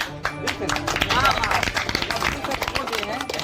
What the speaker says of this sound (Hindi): ताली मारिए आप लोग